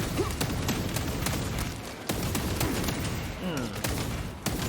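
A gun fires repeatedly in Warhammer 40K Space Marine II, loud rapid shots in quick bursts with thuds and battle noise over the whole stretch, a player's voice murmuring beneath.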